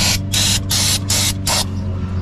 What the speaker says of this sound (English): Gonna spray it one more time.